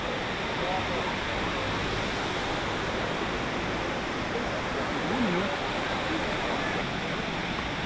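Steady broadband rush of water at Na Mueang Waterfall on Koh Samui, Thailand, a constant loud roar of falling water filling the scene throughout, with faint crowd voices blended in underneath.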